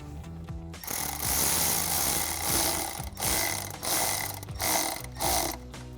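An 8mm socket ratchet tightens an intake coupler clamp over the throttle body on a 2021-2023 Ford F-150 during a K&N cold air intake install, giving close, loud bursts of ratcheting clicks in short repeated strokes with brief pauses.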